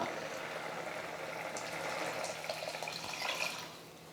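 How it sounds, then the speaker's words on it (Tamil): Soft, steady trickle and splash of water poured into a pot of cooked lentils for okra sambar, fairly quiet and continuous for a few seconds before easing off. "கொஞ்சமாக தண்ணி சேர்த்து அலசி ஊற்றிக்கிறேன்"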